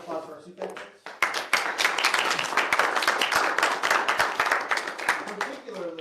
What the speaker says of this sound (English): And a quick round of applause for our SUFAC.